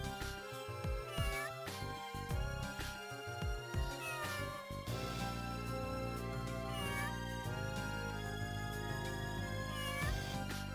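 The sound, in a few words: cat meowing while being petted in Phantasy Star 0 video game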